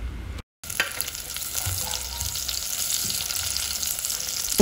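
Onions frying with tofu in a pan, heard as a steady, close sizzle with some stirring scrapes throughout, after a brief gap of silence at the start.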